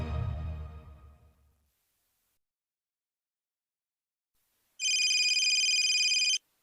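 A telephone rings with a bright electronic trill of about a second and a half, heard alone after a fading low rumble and several seconds of silence.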